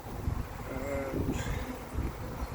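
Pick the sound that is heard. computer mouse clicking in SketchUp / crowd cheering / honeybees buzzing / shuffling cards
honeybees buzzing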